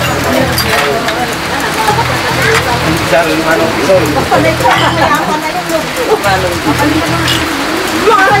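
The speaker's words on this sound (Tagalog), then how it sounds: "Inabot na rin tayo ng ulan." Steady heavy rain pattering on a surface in Pangasinan, a dense continuous hiss with scattered drips throughout.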